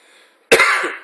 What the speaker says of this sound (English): And I just did some smudging, so that's why I'm coughing.